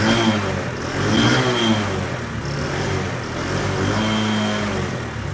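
Motorcycle engine running smoothly without misfiring right after a first-kick start in cold winter weather, a steady mid-pitched idle with gentle swells of revving, close and fairly loud, with no talking.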